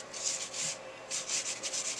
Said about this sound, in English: rub it along the edges to make it look aged